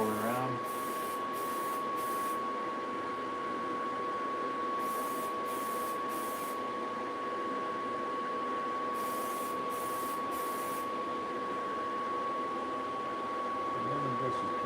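Light coats of spray paint go onto a designer toy in three separate bursts of airy hiss, each lasting one to two seconds, over a steady mechanical hum and tone.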